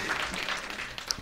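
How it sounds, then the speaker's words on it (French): Brief burst of audience applause at a literature and arts discussion in Burkina Faso, a dense patter of clapping that holds steady for about a second without voices on top. "Vous pouvez l'applaudir."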